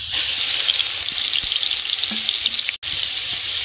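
Ground spice pastes (onion, cashew-poppy, ginger-garlic) fry in hot oil for a vegetarian potol dorma, a loud, steady close sizzle with a few faint clinks and one sharp knock.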